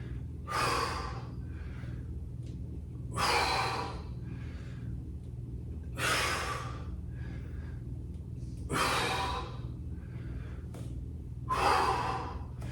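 Heavy, rhythmic breathing during a bodyweight push-up workout, with about five loud, forceful exhales or gasps spaced roughly every three seconds over a low steady background hum, with no talking.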